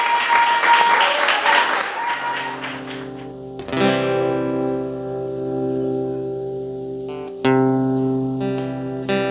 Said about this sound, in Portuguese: E as palmas louvam o nome do Senhor